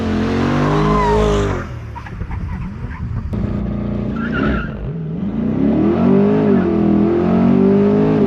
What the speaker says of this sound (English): you're gonna do launch control in my Corvette